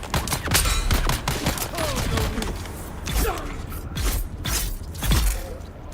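Rapid bursts of gunfire from dark guns in the Dune: Awakening video game, repeated loud volleys and sharp cracks spread across the stretch with brief gaps, mixed with game effects.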